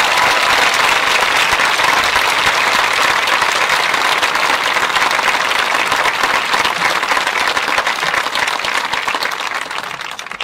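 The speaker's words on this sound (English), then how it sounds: "Have another round of applause." Sustained applause from a graduation ceremony audience after a Brigadier General's address, dense clapping filling the hall at a steady, loud level for about ten seconds before easing slightly at the end.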